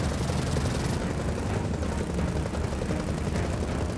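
A Kestrel aircraft roars steadily overhead in Gears of War 4, a loud, broad rotor-like drone with faint gunfire mixed in throughout.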